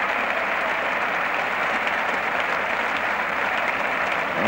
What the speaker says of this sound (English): getting a good round of applause too from the West Indian cricketers out there